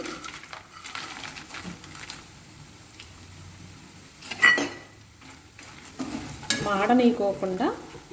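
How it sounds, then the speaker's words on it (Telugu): Urad dal vadiyalu (black gram dumplings) frying in hot oil, a steady sizzle with bursts of stirring and a sharp utensil clatter against the pan. "ఈ మినప వడియాల్ని మనం ఇందులో వేసుకొని ఫ్రై చేసుకుంటాము"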